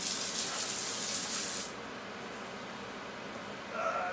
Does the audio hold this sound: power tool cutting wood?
no